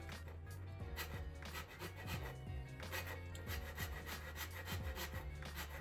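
A hand file shapes the wooden neck of a cigar box bass guitar, making rhythmic back-and-forth rasping strokes that repeat steadily and close by, with a low hum underneath and no talking.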